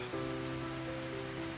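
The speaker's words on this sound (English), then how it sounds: "the rain has not yet stopped falling." Steady rain falls outside a window at night, an even, constant patter with a low hum running underneath throughout.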